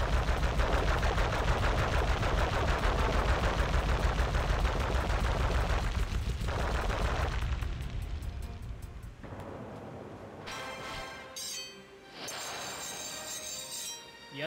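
Rapid machine-gun style shooting from the Sly Cooper video game, dense and continuous for the first several seconds, then thinning into scattered shots and clinking game effects with brief pauses.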